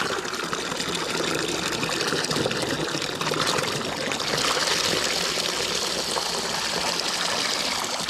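Water pouring steadily from a hose or tap into a 5-gallon bucket outdoors at an off-grid site, a continuous close rushing splash that stays loud and even throughout with no talking.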